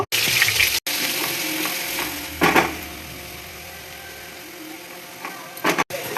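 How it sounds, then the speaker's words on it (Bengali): Onion paste frying in hot oil with cumin seeds, bay leaf and a dried red chilli, a steady close sizzle with brief sharp bursts and a few clicks, no talk. "পেঁয়াজটাকে আমি হালকা করে ভেজে নেব"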